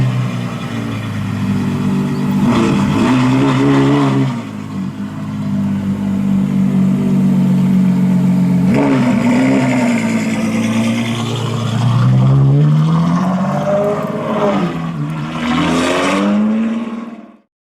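A Novitec-tuned Ferrari F12 Berlinetta revs loud and close, with its exhaust roaring in long sweeping rises and falls and a brief dip in the middle, then cutting off abruptly at the end.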